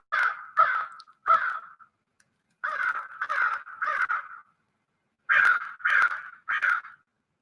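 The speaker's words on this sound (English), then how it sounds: "Them crows was coming by again." Crows cawing in three bursts of harsh, repeated calls as they pass by, moderately close and fairly loud, with short quiet gaps between the groups and no voices.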